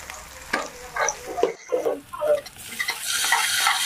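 Ginger garlic paste stirred in a pan for aloo tomato curry, uneven scraping and clinking strokes over a rising sizzle, near and moderately loud, with no speech.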